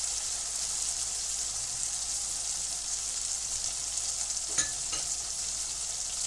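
Taro curry stirred in a pan as cumin powder goes in, a steady, fairly quiet hiss of frying with a brief scrape or clink near the end, heard alone.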